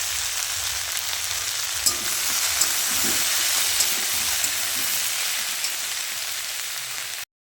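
Chopped onion frying in a pan for a vegetable and fish-head curry, a steady close sizzle with occasional stirring knocks.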